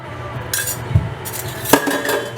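Dishes set down in a kitchen sink: two or three close clinks and clunks of crockery and metal knocking together, brief and fairly loud, with no talking.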